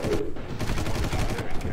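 Rapid gunfire from enemies in the video game Far Cry, short bursts of shots in quick succession, close and loud, with a voice talking over it.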